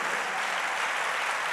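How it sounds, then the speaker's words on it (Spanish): A church congregation applauds together in steady, dense, continuous clapping that fills the whole stretch at an even level, with no voices standing out. "Dale el aplauso a Dios."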